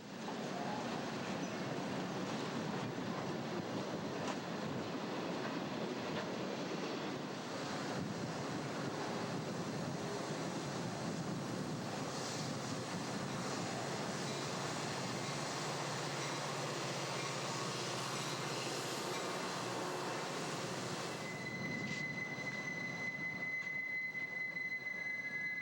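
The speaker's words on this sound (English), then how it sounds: "These BN SD9s lead a transfer train back to the racetrack from IC's Glen Yard." Burlington Northern SD9 locomotives lead a freight transfer train past at Chicago's Racetrack junction, a sustained rumble of rolling cars with wheel squeal, ending in a high steady flange squeal near the end.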